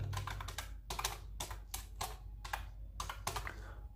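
Rapid, uneven bursts of keystrokes on a computer keyboard while writing Arduino code, close and steady over a constant low background hum with no talking.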